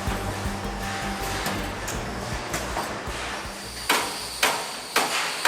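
A hammer bends sheet metal edges over a jig in a Filipino factory building classic WW2 Willys Jeeps. A few sharp metallic blows ring out near the end over a steady, loud workshop hum.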